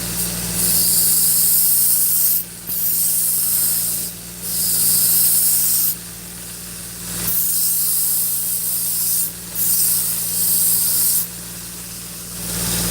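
A knife blade tapered and blended on a powered grinder or belt, a loud steady abrasive hiss in repeated passes of two to three seconds each with short breaks between them, over a constant low motor hum and no talk.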